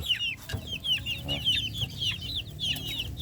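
Farm chickens clucking busily while eating feed, a dense run of short repeated clucks from several birds close by over continuous low background noise.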